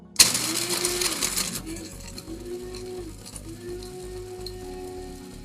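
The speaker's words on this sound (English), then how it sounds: "we've got these loaded up into our spice grinder, and we'll put the lid on, and here we go" A small electric spice grinder whirs loudly as it grinds dried vanilla beans into powder, starting with a sharp burst and then settling into a steady motor hum that rises and falls, with no talking.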